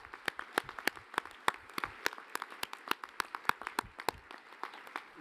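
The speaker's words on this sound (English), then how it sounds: "that's worth an applause" Audience at an annual dinner breaks into applause, a dense spread of many hands clapping steadily for about five seconds, fairly close and without talk.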